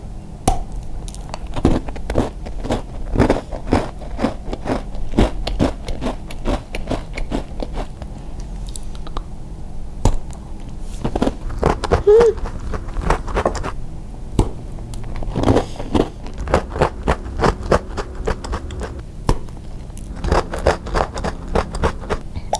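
Repeated crisp bites and crunchy chewing of a plain chocolate-coated stick snack from a bakery. The crunches come up close in steady, closely spaced bursts, with no talking.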